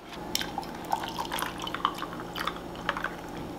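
Cow's milk is poured over ice in a glass of iced coffee, heard as quiet, close drips and small liquid splashes against the ice, with no talking.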